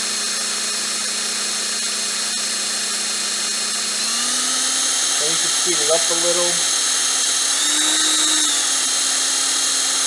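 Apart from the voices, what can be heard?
drill twisting coil wire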